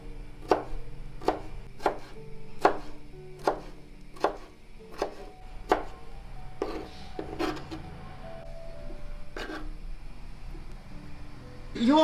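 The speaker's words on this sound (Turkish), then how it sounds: "Şimdi kornişonlarımı doğrayacağım." A knife chops gherkins on a cutting board in a home kitchen, about a dozen crisp, evenly spaced strikes close by, slowing and then falling quiet, with no talk.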